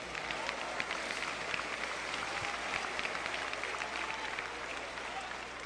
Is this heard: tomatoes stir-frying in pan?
no